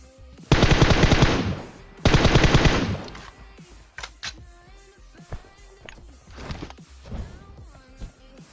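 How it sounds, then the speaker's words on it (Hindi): M4 rifle fire in the PUBG shooter game: two loud, rapid automatic bursts of about a second each, followed by scattered single shots, clicks and footsteps. "पहले मैं 2-3 बार M4 से प्री फायर मारता हूँ"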